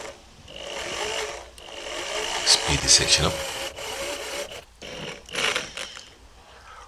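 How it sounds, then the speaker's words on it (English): Power drill boring a hole into the boss of a Mountfield mower blade holder to repair broken studs, with a steady whirring and grinding, louder bursts near the middle and end, and brief speech over it. "I'll just drill the hole here"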